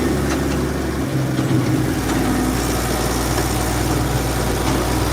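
John Deere tractor rumbling over a rough, bumpy farm driveway, a continuous low engine drone with vibration and occasional knocks, steady and close throughout with no voices.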